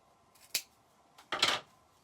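Two crisp snips of scissors cutting through dry grapevine while a wreath is being shaped, a short single cut followed by a longer, rougher crunching cut, close and isolated in a quiet room.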